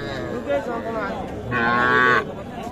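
Cattle at the Ambari livestock market: a bull calf lets out one loud, drawn-out moo, preceded by a softer, lower lowing, with faint market background.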